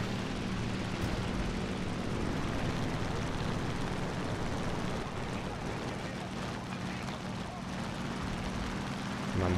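A loud, rough aircraft engine in War Thunder drones continuously, a steady buzzing roar with little change throughout, sounding unhealthy.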